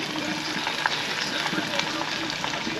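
Onion rings fry at an ice camp in a continuous, close crackling sizzle with faint scattered pops, with no voices.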